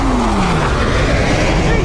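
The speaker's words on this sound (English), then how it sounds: "That's a motorcycle." A motor vehicle, called a motorcycle, drones past with a steady engine tone that slides gradually downward in pitch as it moves away, loud and continuous under a broadband roar, with people talking over it.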